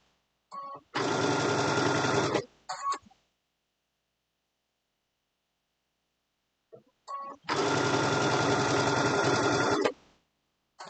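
A sewing machine runs two steady, loud bursts of stitching on an Easter basket's fabric lining, each lasting a little over a second, with near silence between them.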